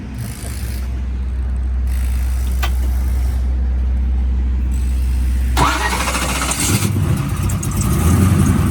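A nitro-fuelled drag car engine idles with a deep steady rumble, then cranks and roars to life with a loud rising rev that settles into a rough idle.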